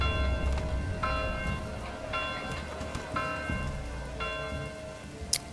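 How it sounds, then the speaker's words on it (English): Steady rain falls in the medieval city-building game Manor Lords, a continuous hiss of drops on surfaces, with bell-like musical tones sounding at regular intervals above it. "Getting some nice rain, that should help out a lot with our crops."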